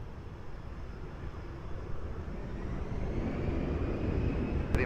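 Airliner taking off from runway 20 at Lisbon Airport, a steady broadband engine roar that builds slightly louder over a few seconds, heard from a distance with no talk.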